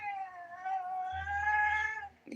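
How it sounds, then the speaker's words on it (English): A loud moggy cat meows in a long, drawn-out complaining call that rises and wavers, close and clear, with no talking over it. "Isn't that a loud cat?"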